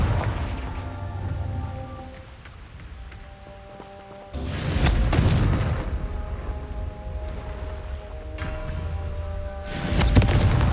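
Fiery Confringo blasting-spell explosions in the Hogwarts Legacy video game, two heavy booming bursts several seconds apart, each with a broad roaring rush that trails off, over a steady tonal music bed.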